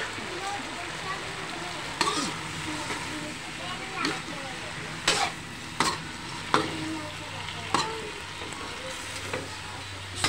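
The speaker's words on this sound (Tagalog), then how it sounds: "Stir fry" Green beans with tofu and chicken stir-frying in a pan, a steady sizzle with sharp clatters of utensil strikes every second or so, voices faintly in the background.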